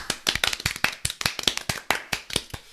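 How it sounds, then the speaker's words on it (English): A few podcast hosts clap hard and close to the microphone, a quick uneven run of sharp, separate slaps that keeps going for nearly three seconds, with no talking. "Round of applause"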